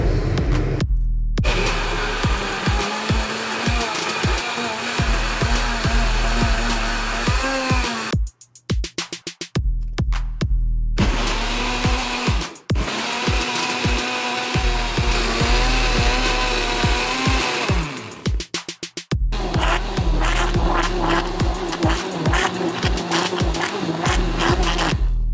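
A blender runs steadily at high, loud power while preparing onion and garlic for a molokhia dish, its motor whine dropping briefly twice as it pauses before starting again.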